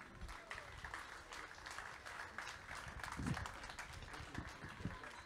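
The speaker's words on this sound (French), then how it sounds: "On vous applaudit très fort." Audience applause at an official sailing-race prize ceremony in Martinique, dense continuous clapping from a crowd with a few louder close claps, fairly faint overall.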